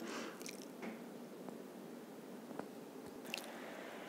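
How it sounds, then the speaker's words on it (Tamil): Soya chunk gravy is stirred in a pan after water is added, giving soft wet squishing and sloshing with a few faint clinks of the spoon, close and steady, with no talking. "தண்ணி சேர்த்திட்டு நல்லா மிக்ஸ் பண்ணிக்கலாம்."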